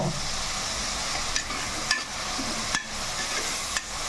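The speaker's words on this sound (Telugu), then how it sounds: "ఈ ఉప్పు వేయడం వల్ల ఏంటంటే మనకి ఉల్లిపాయలు చక్కగా తొందరగా వేగుతాయండి" Onions frying in a pan with rock salt give a steady close sizzle, with a few soft scraping stirs breaking through now and then.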